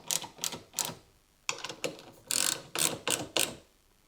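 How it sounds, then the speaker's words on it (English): A ratchet wrench tightens a nut on a trailer hitch being installed on a 2025 Honda Pilot, about a dozen quick close clicking bursts in short uneven runs, with no talking. "just grab your nut and just tighten it"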